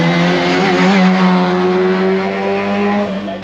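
Nissan GT-R race car at the Canberra Festival of Speed, its engine loud and close with a steady high harmonic whine that wavers slightly as it drives past.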